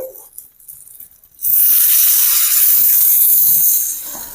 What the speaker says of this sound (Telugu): ఇందులో కాసిన వాటర్ పోసుకోవాలండి.